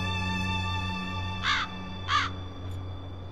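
A raven in the Black Mirror 2 video game gives two short harsh caws about half a second apart over a steady droning background hum.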